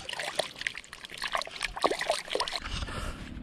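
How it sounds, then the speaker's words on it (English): Water trickles and splashes over a hand being rinsed outdoors at a beach fishing spot, a steady broadband wash with small slosh bursts and a low rumble near the end. "I'm gonna rinse my hand off after that one though."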